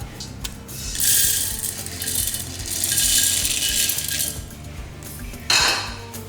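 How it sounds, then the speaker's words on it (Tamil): Metal spoon clinks and scrapes against steel dishes and a mixer grinder jar while freshly ground powder for instant payasam is transferred, with a run of close, bright rattling and a sharper knock near the end. "இப்போ இதை எடுத்து நம்ம மிக்சி ஜாருக்கு மாற்றிக்கலாம்"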